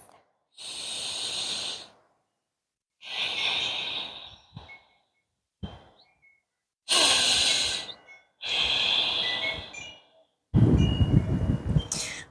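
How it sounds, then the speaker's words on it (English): Slow, deep breaths during a gentle beginner yoga session, several long even inhale and exhale cycles separated by quiet pauses, close and clear with a breathy hiss, the last breath heavier and rougher. "2 more cycles of breath."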